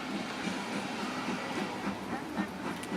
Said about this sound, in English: I'm going to wait and film the next train coming through